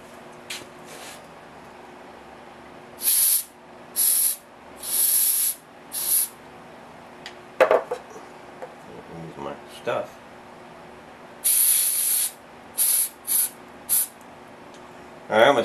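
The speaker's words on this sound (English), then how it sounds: "spray cleaner here." Repeated short bursts of aerosol spray cleaner hissing onto a Lincoln 225 amp welder switch, several quick blasts in two clusters, with some handling noise and faint talk in between.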